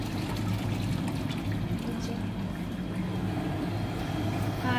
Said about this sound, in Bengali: জল ভরলাম